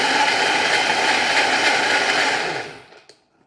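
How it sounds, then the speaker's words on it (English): A blender whirs loudly and steadily while blending a chocolate milkshake with ice cream, a close, constant motor roar that winds down and stops near the end, followed by a faint clink. "Put the blender lid back on and blend it for until it's nice."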